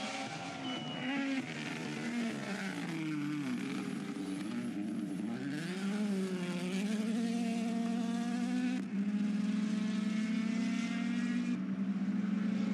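A WRC rally car at Rally Latvia driving onto a tarmac sector, its engine a buzzing, rising and falling whine with gear-shift steps, fairly close and alone.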